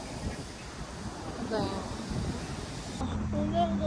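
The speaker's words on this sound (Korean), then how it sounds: "바람 많이 불고" Strong wind blowing outdoors in Yeonhui-dong on a clear day, a steady rushing buffet across the microphone with muffled voices underneath.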